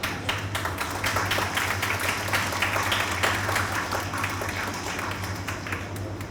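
An audience at a spoken awareness talk bursts into dense, continuous applause, with many hands clapping steadily for several seconds.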